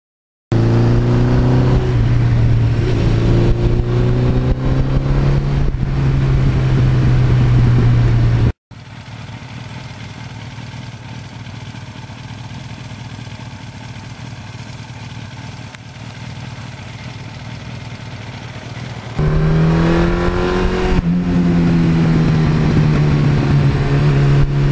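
A 1982 Suzuki GS1100E motorcycle with 76,000 miles, its engine revved up and held high, then dropped to a steady idle, then revved again, loud and close with no talk.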